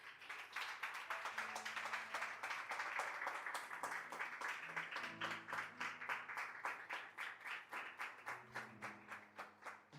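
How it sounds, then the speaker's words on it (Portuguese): A church congregation applauds in place, sustained clapping from many hands with a steady rapid rhythm that loosens into more distinct claps toward the end, with faint background tones underneath. "aplauda o Senhor Jesus no seu lugar"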